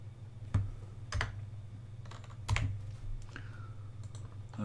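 Keyboard shortcuts typed on a computer keyboard: a few isolated, faint key clicks spaced over several seconds against a low steady hum, with no talking.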